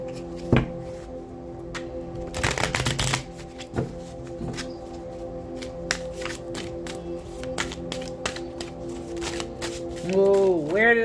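Shuffling a deck of tarot cards: a few sharp riffling bursts near the start, then quieter handling and taps, with a person talking throughout.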